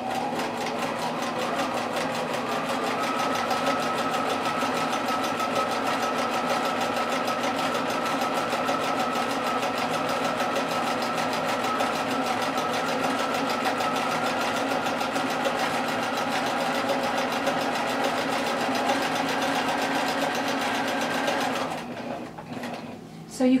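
A sewing machine runs steadily and continuously, stitching coiled rope into a rope bowl, a close, even whirring hum that stops abruptly near the end.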